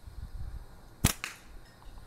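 A slingshot shot fired through a speed chronograph gives one sharp snap, then a fainter second crack just after, over a quiet outdoor hum.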